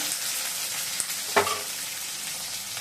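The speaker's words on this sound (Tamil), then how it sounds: "முதல்ல தக்காளி வதங்கட்டும் கொஞ்சம் நேரம் நல்லா" Chopped tomatoes sautéing in a pan for an okra and egg curry, a steady loud sizzle and frying hiss throughout with a brief stirring scrape in the middle, no talking.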